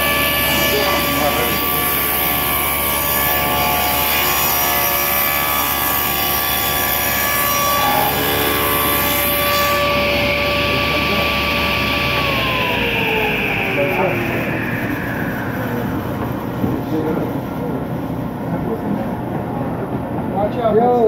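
Table saw in a woodworking training shop, its blade whining steadily while still spinning, then winding down after the power cuts, the pitch gliding lower and the hum fading over several seconds, close by with people talking over it.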